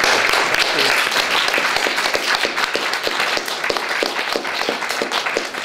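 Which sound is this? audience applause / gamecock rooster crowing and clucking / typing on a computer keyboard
audience applause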